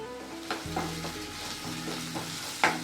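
Ginger garlic paste frying with salt in a pan of green chillies for a rajma gravy, a soft steady sizzle under repeated scraping strokes of a spoon stirring, close and fairly quiet.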